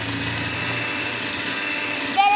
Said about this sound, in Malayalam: അപ്പം ദേ ഞാനിവിടെ ബീറ്ററും വെച്ച് ബീറ്റ് ചെയ്യുന്നു